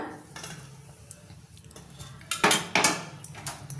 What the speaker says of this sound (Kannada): ಒಂದು ತಟ್ಟೆ ತೆಗಿತೀನಿ ನಾನು